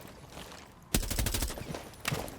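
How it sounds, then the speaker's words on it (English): Gunfire from Rainbow Six Siege shooting at walls: after a quiet start, a sudden loud burst of rapid automatic shots hammers on, then a final short volley near the end. "I'll just start shooting at walls"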